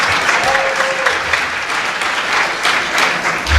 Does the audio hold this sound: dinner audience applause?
yes